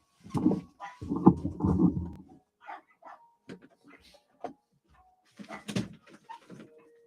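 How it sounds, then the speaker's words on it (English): Several dogs barking outside near a balcony in a home, bursts of loud close barks with whimpers and yips in between, mixed with a person speaking. "Every single time anybody walks by on the balcony, my dogs just love to bark at everybody."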